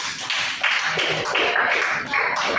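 An audience in an education supervision coaching session claps in rhythmic bursts, a loud close group applause with regular beats throughout.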